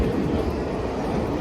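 NKP 756 steam locomotive running along the line near Hillsdale on a fall color excursion, a steady close rumble and rolling rail noise filling the whole stretch without pause.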